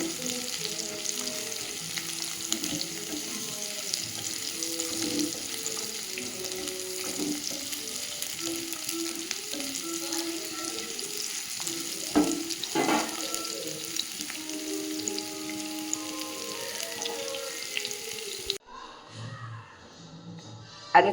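Garlic and chillies sautéing in a pan, giving a steady close crackling sizzle with occasional stirring scrapes that runs unbroken before cutting off near the end.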